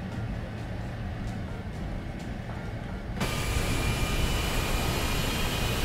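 Aircraft engine in War Thunder spooling up for takeoff, a steady dense roar that jumps abruptly louder and brighter halfway through and stays at full power.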